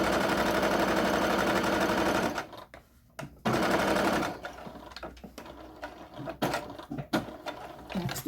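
A sewing machine stitches apron fabric in a fast, steady whirring run for about two seconds, then stops, followed by scattered clicks and short mechanical bursts as it is handled.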